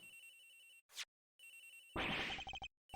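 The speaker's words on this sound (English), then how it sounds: "It's ringing from somewhere, sir." A telephone rings in the Ace Attorney Investigations video game, sounding its trill in repeated bursts with short gaps, clear and alone.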